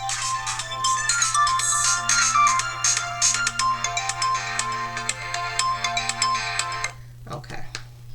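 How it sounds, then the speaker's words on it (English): A bright electronic ringtone plays a repeating melody over a low steady hum, then cuts off abruptly near the end. "My phone is ringing."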